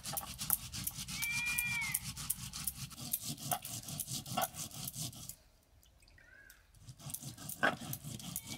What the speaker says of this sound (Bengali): আর বেটে নেব গোটা জিরে